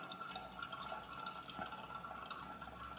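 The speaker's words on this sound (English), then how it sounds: "But we are getting water in there now." Water runs steadily into the boiler of a Wilesco D455 toy steam engine, a continuous trickling, dripping fill heard close and fairly quiet for the whole stretch, with no talking.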